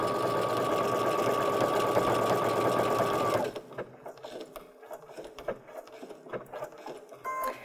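A sewing machine with automatic pivot stitches a reverse appliqué snowflake pillow in a fast, steady mechanical whir for about three seconds, then stops, leaving scattered soft clicks and handling noises.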